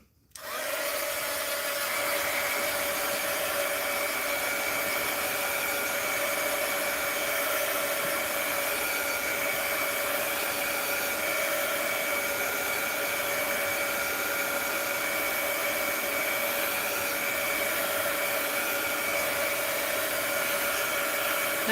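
A handheld dryer blows steadily to dry a mixed-media art journal page, a constant close whirring hiss with a faint whine that starts abruptly and runs unbroken.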